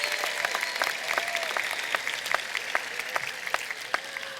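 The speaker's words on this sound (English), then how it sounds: "Let's give them a round of applause in appreciation for their service." An audience at a college commencement ceremony claps for several seconds, a dense, even patter of many hands at moderate distance with no cheering or talk.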